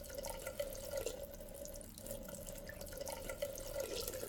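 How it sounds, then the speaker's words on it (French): Water runs from a bathroom tap into a sink while someone brushes their teeth, a steady close splashing stream with a faint ringing tone, heard alone. "L'eau commence à couler."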